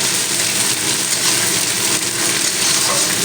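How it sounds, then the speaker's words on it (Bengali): Ginger and turmeric sautéing in a pan for a vegetarian dish, a dense, even hiss of sizzling that stays loud and close for a few seconds with no talk. "আদাটা দেওয়ার পরে দু মিনিট কষিয়ে নিলাম"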